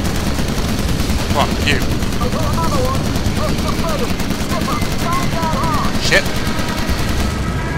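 Rapid, continuous gunfire rattles through an aerial bombardment mission in the video game Call of Duty: United Offensive, with steady bursts and occasional louder shots while a player talks over the shooting.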